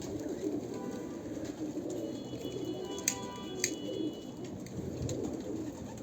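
Pigeon or dove cooing, a singing male bird heard steadily amid outdoor background noise, with a couple of brief sharp clicks.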